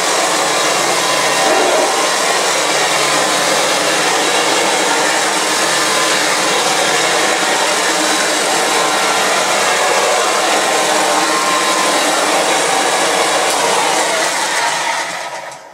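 Refurbished Vactric Junior R45 vacuum cleaner running, a loud, close, steady motor whine and airflow roar that holds unchanged for about fifteen seconds before cutting off.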